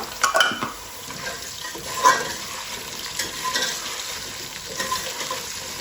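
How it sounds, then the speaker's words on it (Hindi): Potatoes and peas fry in a pot, with a low, steady sizzle and scattered scraping stirs and clinks throughout. "इनको ना 2-3 मिनट फ्राई करेंगे"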